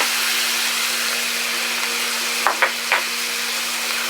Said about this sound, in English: I'm going to also add some butter, so we can baste it.